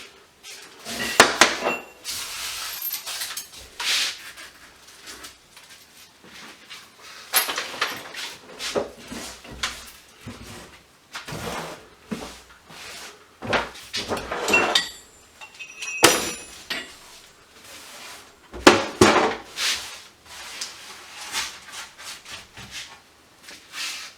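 Pieces of aluminum scrap are tossed onto a metal pile in a shed, landing in scattered clanks and clinks with quiet gaps between the bursts.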